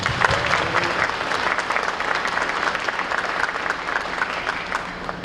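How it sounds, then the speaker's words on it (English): Breakfast event audience gives steady applause for the caterer and her team, a continuous dense wash of many hands clapping at even volume for about five seconds, tapering slightly at the end. "Please join me in applause for our caterer for today's event, Ms. Carolyn Thomas and her team with Soul Elegance Catering"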